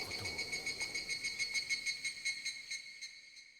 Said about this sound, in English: Ugh, fucking cicadas.